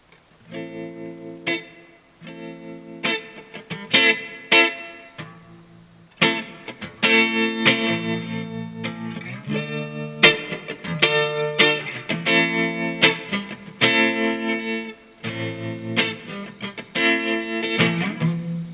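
Clean electric guitar tone played through a Fender Mustang II amp with reverb on, a sequence of plucked chords and notes with ringing decays, close and clear, no talk.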